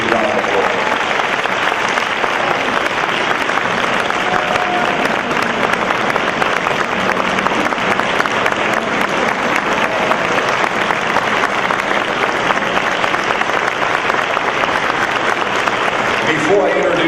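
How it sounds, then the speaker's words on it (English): A crowd at an awards celebration honoring student athletes applauds steadily and loudly for a long stretch, a continuous wash of clapping with faint voices mixed in. "Big round of applause."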